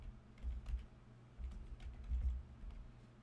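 Faint, close typing on a computer keyboard, with irregular soft clicks in a few quick runs and short pauses in a quiet room.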